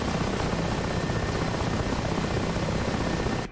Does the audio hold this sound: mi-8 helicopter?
yes